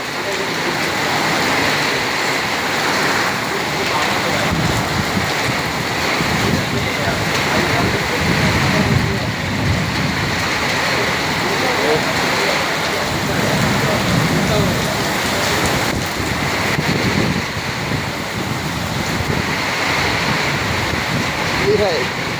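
Heavy rain pours down in Qatar, a dense, loud, unbroken roar of water lasting the whole stretch, with a voice speaking now and then over it.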